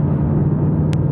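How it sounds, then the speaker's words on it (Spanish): Engine rumble from a 2022 Ford Mustang Mach 1 V8, a steady loud low drone heard from behind the wheel, with a brief sharp click near the end. "un coche que tiene un bramido que te hace disfrutar"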